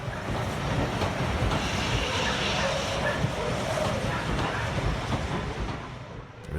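Flying Scotsman steam locomotive with its carriages rolling back through Haworth Station, heard from the railway bridge as a steady, loud rumble with faint rhythmic wheel clatter, continuous throughout and easing slightly at the end.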